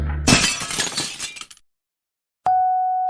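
Coconuts hurled against the glass of an expensive car, a loud shattering crash with scattering shards that trails off into silence, followed by a sudden steady ringing tone.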